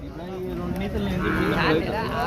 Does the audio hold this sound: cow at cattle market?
yes